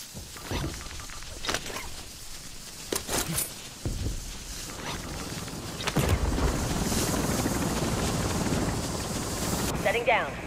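A helicopter sets down in the Modern Warfare Zombies game, its broad rotor wash and engine roar building and holding under scattered game effects and distant voices.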